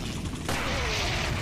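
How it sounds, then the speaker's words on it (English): An explosion in the Resident Evil 4 VR video game bursts in as a sudden loud, dense roar that stays heavy and sustained through the short moment, with no talk over it. "Yes, an explosion."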